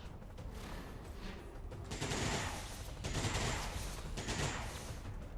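Return gunfire from ballistic weapons in XCOM 2 crackles in a few faint, overlapping bursts that swell and fade roughly once a second.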